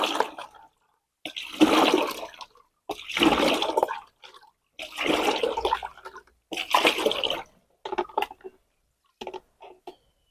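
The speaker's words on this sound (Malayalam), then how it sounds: "മൂന്ന് ലിറ്റർ വെള്ളം കൊടുക്കാം" Water gushes in several loud bursts with short pauses between, splashing into a sprayer tank close by, then trails off into brief smaller pours.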